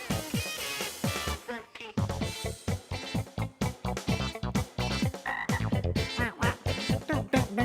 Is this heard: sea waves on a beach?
no